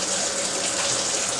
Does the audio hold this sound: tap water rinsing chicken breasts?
yes